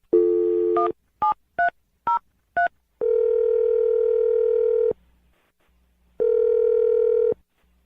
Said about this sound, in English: We're going to dial the phone number right now